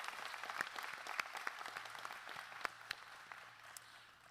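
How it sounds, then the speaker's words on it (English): Steady applause from a graduation ceremony audience, many hands clapping continuously at moderate volume, with a few sharper individual claps standing out. "Let's give a warm round of applause"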